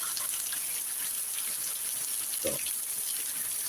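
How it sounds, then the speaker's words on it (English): Heavy rain pours down outdoors in a steady, full hiss that fills the whole stretch, with a voice briefly heard partway through. "I'm getting some of the best rain right now."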